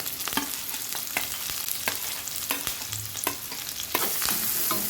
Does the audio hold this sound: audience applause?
no